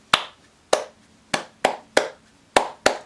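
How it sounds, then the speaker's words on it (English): Seven sharp, crisp hand claps tapping out a short rhythmic pattern, close and dry with brief silences between them. "Let me clap it, check I'm happy with it."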